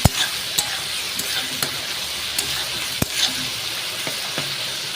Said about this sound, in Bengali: দেখুন ভালো করে আমি ভেজে নিচ্ছি পেঁয়াজটাকে।